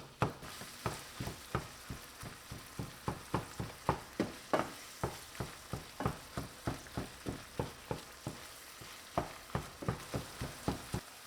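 Ground beef and pork browning in a pan: a steady run of sharp, evenly spaced scraping and stirring strokes over a low sizzle, close and fairly loud, with no talking.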